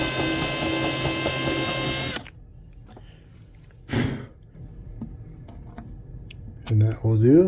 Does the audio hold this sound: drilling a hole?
yes